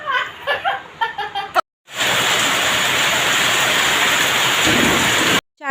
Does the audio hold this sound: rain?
yes